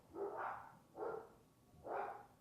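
Three separate dog barks sound at a distance, faint and evenly spaced in a quiet indoor space.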